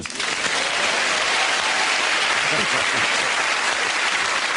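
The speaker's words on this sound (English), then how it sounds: "And clapping." A television studio audience on a comedy quiz show claps loudly and continuously, a dense, sustained wash of applause filling the whole stretch without a break.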